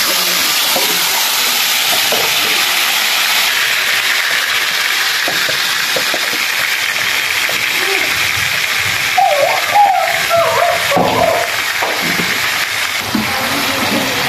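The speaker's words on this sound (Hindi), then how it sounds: "उसके बाद जो ये मैरिनेट होने के लिए रखा था हमने चिकन, इसको इसमें ऐड करते हैं।" Marinated chicken frying in a hot pan over a high flame, a steady loud sizzle with stirring and scraping noises through the middle, no talking.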